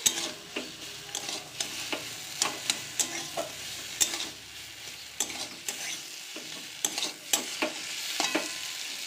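Bottle gourd curry with bori cooks in a pan, sizzling gently while a utensil scrapes and stirs in quick, repeated strokes right up close.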